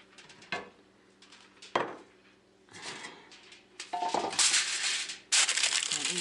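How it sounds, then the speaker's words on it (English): Aluminum foil is handled and torn into a small piece in a home kitchen while cooking pork chops, giving a series of close crinkling, rustling bursts that grow denser and louder toward the end. "get some aluminum foil. Make a small piece."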